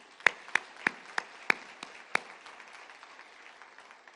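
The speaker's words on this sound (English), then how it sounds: "So let's give them a round of applause." A short burst of scattered hand claps at a charity kickoff event, a handful of sharp claps standing out before fading into sparse, light clapping from a small crowd.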